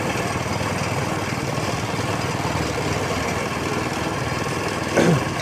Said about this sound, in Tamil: மிஷின் ஓடும் சவுண்டு.